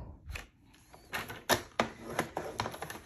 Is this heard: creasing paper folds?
yes